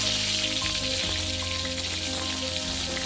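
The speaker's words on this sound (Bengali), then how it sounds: "প্রত্যেকটা বেগুন দেখুন আমি কিন্তু এইভাবে তেলের মধ্যে দিচ্ছি" Eggplant slices coated in salt and turmeric fry in hot oil, a dense continuous sizzle and crackle heard close up, steady throughout with faint bubbling and no speech.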